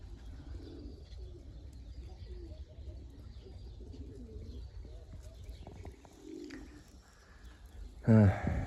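Pigeons coo softly in low, repeating throaty calls, fairly close, before a sudden louder burst of noise at the very end.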